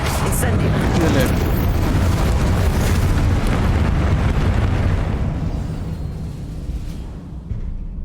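Hogwarts Legacy spell combat with Confringo and Incendio casting: a dense, continuous roar of fiery blasts and rumbling explosions, loud and sustained throughout, thinning slightly toward the end, with voices in the clip.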